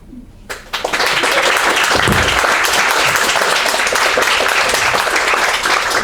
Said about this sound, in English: can you either wave or stand up so that we can also give you a round of applause?